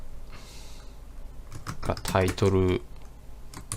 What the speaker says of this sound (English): I'm gonna type here font